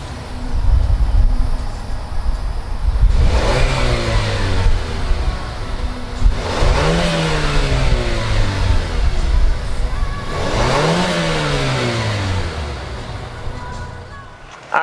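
2019 Mazda CX-9 SUV with a turbocharged four-cylinder rated at 250 horsepower, idling loudly then revving up three times in rising, falling sweeps over a steady engine drone.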